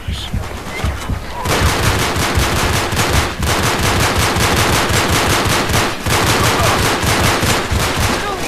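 Rapid automatic gunfire from a multiplayer shootout in the video game Uncharted 3 on new maps, sustained bursts of loud machine-gun fire with brief pauses, near and dense throughout.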